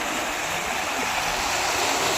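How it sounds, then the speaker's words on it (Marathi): Fast water pours over the brimming Chinchpasla check dam in a dense, unbroken roar, loud and near, with no talk. "हे आपल्या येथील चिंचपसला चेकावरून पाणी चालले बघा"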